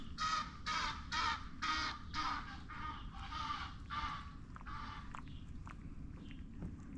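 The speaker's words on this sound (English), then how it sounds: "There's the Egyptian geese." Egyptian geese honking in a series of loud, harsh calls at a marina pond, several bursts in quick succession before fading into quieter background noise.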